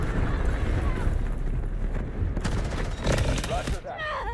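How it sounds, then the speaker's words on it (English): An artillery barrage in the Delta Force video game rumbles and crackles in dense, overlapping blasts, with sharp bursts of gunfire-like impacts rising near the end amid battlefield noise. "Artillery barrage incoming."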